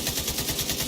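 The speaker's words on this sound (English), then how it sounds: "let's empty this magazine" Lonestar light machine gun fired non-stop in The Division 2 until the magazine runs dry, a loud, steady stream of rapid shots with an even rhythm and no pauses.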